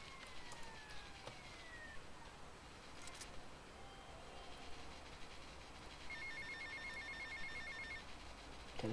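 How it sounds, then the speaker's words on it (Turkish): A telephone rings in the game GTA Vice City, with faint repeating tones that sit quietly over a steady background of game ambience. "Telefon çalıyor."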